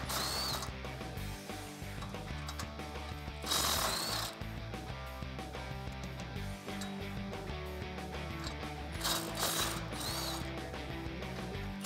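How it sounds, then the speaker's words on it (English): Ratchet wrench with a 14 mm socket and extension backing out mounting studs on a 2016-2021 Toyota Tacoma during a front bumper install, rapid metallic clicking in repeated bursts, close and steady with brief louder pauses. "I'm gonna use that same 14 millimeter socket and that same extension to give myself some room."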